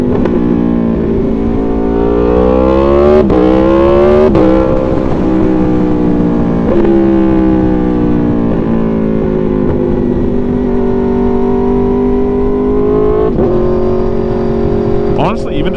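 An Aprilia Tuono V4 motorcycle engine drones loud and close while cruising, a steady harmonic hum that shifts pitch with gear changes and throttle, with wind rush and a rider talking over it.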